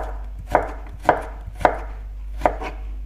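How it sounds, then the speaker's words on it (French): A knife chops through a long radish, cutting it into julienne strips for cabbage kimchi; four sharp, evenly spaced strikes ring out over a low steady hum, with no talking. "le navet est tout long. On coupe en julienne."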